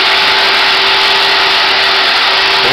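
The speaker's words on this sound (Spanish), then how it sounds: "en este momento se está lijando para que quede con la forma que debe tener" Continuous, loud abrasive sanding of applied filler paste on a sailboat's heavy keel, a steady hissing rasp with a constant whine, close and uninterrupted with no talk.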